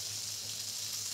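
Food sizzles steadily as it is seared in a pan for a fiery curry, a soft, even, hissing crackle that carries on without pause and with no talk over it.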